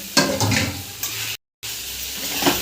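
Eggs being stirred with softened tomatoes in a hot pan, with a steady close sizzle and scraping stir that cuts out briefly, then carries on without speech.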